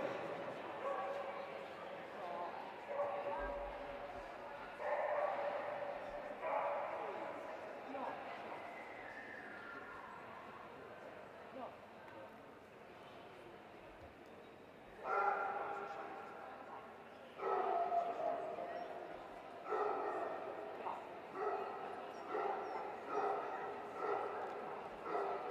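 A wirehaired Dachshund barks and yips at an indoor hound dog show, with repeated barks in clusters over a steady hall murmur and crowd noise, moderately close.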